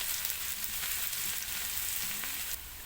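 Garlic frying in hot oil with steady, close sizzling that runs throughout, with stirring noises, then eases off slightly near the end; no one speaks.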